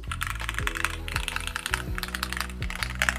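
Close, steady typing on a ROG Azoth mechanical keyboard with a clacky sound profile, giving a quick run of crisp key strikes with deeper thuds mixed in, heard alone at moderate level.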